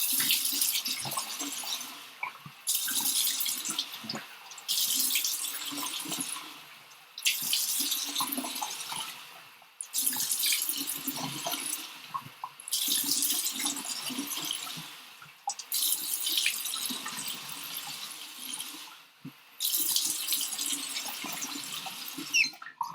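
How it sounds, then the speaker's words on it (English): Tap water runs steadily into a sink while face cleanser is rinsed off, with several bursts of splashing as hands scoop water, separated by brief pauses; close, moderately loud, with no talking. "So let me rinse that off."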